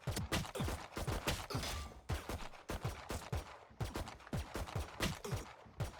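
Repeated pistol shots from the Classic in Valorant, a video game, fired in quick taps and short bursts, close and sharp, with no talking over them.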